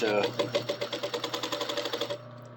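A sewing machine stitching fabric edges runs in a fast, even mechanical chatter for about two seconds, then cuts off abruptly, leaving quiet room tone.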